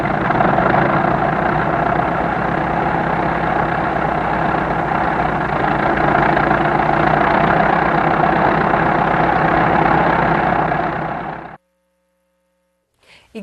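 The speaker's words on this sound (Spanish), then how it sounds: "Sentimos el ruido y vimos la silueta de una lancha sobre la costa de Buenaventura" A motorboat engine drones steadily and loudly off a nighttime coast, its low continuous rumble holding for about eleven seconds before cutting off abruptly into near silence.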